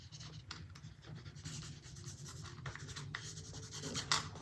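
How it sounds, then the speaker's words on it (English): Tape being smoothed down by hand on a handmade wallet, a steady close rubbing and scratching of fingers across the surface with a sharper scrape near the end. "I could just smooth that down"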